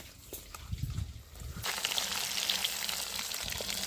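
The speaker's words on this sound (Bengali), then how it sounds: "দেখতে পাচ্ছ মাছ ভাজা পুরো হয়ে এসেছে অনেকটা।" Fish frying in a pan: a low, muffled bubbling that swells into a dense, steady sizzling hiss, close and continuous.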